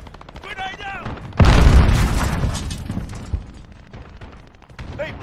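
A grenade explodes in the Call of Duty Modern Warfare beta multiplayer match, one loud booming blast that rumbles off slowly and is followed by scattered gunfire, with game voices heard before it.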